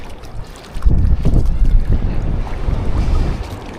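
Rough sea crashes and churns against a boat in strong northeast monsoon wind buffeting the microphone, a loud continuous roar with surging swells and no voices.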